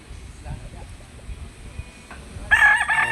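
A rooster on a Philippine farm crows loudly and clearly near the end, after a stretch of quieter outdoor background with faint clucking.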